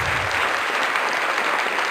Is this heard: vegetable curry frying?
no